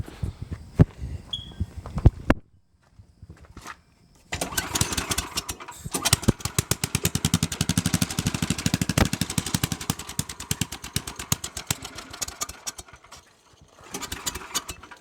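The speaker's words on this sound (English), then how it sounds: "But I'll fire it up now that I got a gas tank on it." A small go-kart engine with a new gas tank fitted, on a cheap revived kart, sputters through a few cranking attempts and catches, then runs with a loud, rapid, uneven chugging before it cuts out briefly and restarts.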